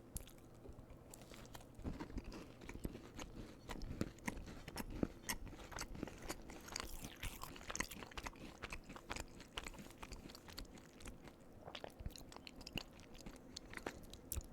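Close, quiet crunching and chewing of a KitKat Crumbl cookie with melted chocolate, steady bites and mouth sounds with no talking.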